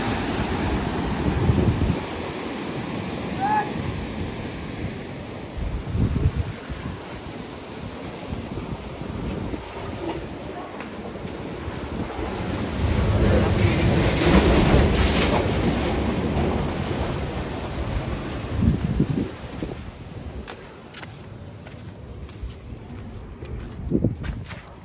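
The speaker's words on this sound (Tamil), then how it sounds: "இன்னொரு அலை போகும்." Ocean surf breaking on a beach at Arugam Bay, with strong wind buffeting the microphone; waves surge and wash in repeatedly, loud and close, with no voices.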